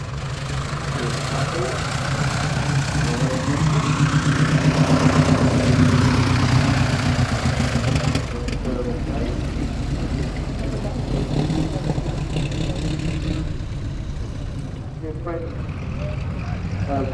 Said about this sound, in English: We have an 85A engine in it.